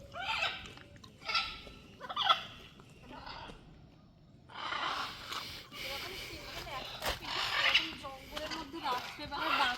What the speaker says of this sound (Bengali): খুবই খুবই কর্কশ, খুব কানে লাগছে। অনেকগুলোই রয়েছে ম্যাকাও